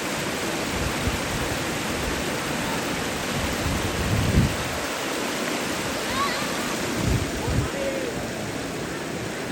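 A fast stream rushes down a slippery, moss-covered channel near the waterfalls of Pale village, making a steady broadband roar with occasional splashes, under a voice speaking.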